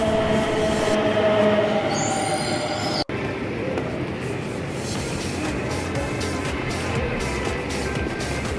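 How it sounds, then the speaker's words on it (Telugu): A Delhi Metro Pink Line train pulls into Hazrat Nizamuddin station, a loud steady rumble of wheels on rail with brief high squeals and hissing, continuous throughout with a sharp break midway. "సో మెట్రో అయితే వచ్చింది. ఇది పింక్ కలర్లో ఉంది"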